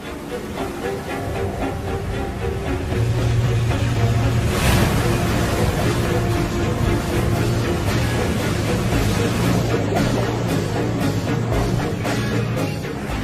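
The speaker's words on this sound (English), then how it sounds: "One of the baddest, heaviest waves on the planet." Heavy surf breaks on the Teahupoo reef in Tahiti, a loud, continuous roar of crashing water that swells into a strong surge midway and keeps churning steadily afterward.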